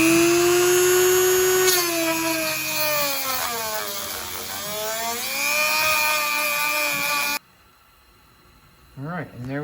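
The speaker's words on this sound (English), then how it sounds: "Now I'm gonna clean it up with this Dremel" A Dremel rotary tool whines at high pitch while cleaning leftover rubber out of a car's rear subframe, its tone dipping and rising under load for several seconds, then stopping abruptly before a short spoken remark.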